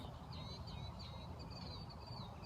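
Faint bird chirps and short whistled calls come from a distance over a low, steady background rumble.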